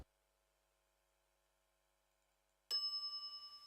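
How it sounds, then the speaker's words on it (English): A counter service bell in The Secret of Monkey Island rings once after near silence, a single bright, clear ding that rings on and slowly decays. "some idiot's already ringing that stupid bell"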